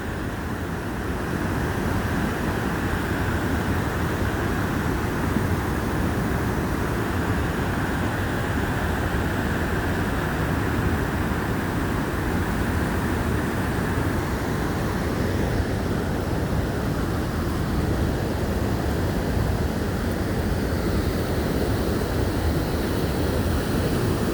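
The American Falls at Niagara Falls roars as a constant, dense rush of water, loud and unbroken from start to finish.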